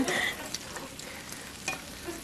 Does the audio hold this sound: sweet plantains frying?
yes